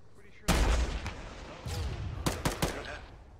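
Gunfire in the military shooter Arma during a ShackTac combat search-and-rescue mission: a loud close burst of shots, then a stretch of rumbling noise and a few sharp cracks near the end, with a voice in the background.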